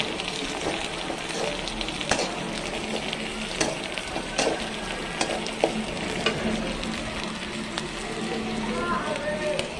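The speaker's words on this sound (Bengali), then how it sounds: "এখন ডালগুলো দিয়ে পাশ দিয়ে ভেজে নিব" Lentils frying in hot oil beside okra in a pan, a dense continuous sizzle with scattered spatters and pops, loud and close throughout.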